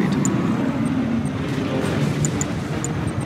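In the Command & Conquer 3: Tiberium Wars real-time strategy game, an aircraft engine drones steadily throughout, loud and continuous, with small repeated clicks over it.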